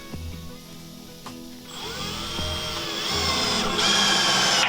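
A power drill driving a screw into a steel drum, close and loud, starting with a few sharp knocks and short whirs, then a sustained whining drive whose pitch climbs and grows louder as the screw bites into the metal.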